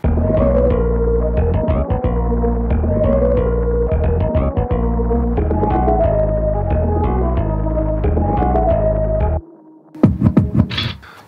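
Synthesized bass guitar line layered with a Splice sample, a dense, loud, steady throbbing with chorus and distortion-like texture for about nine seconds, then a short pause and a few bright sampled hits at the end.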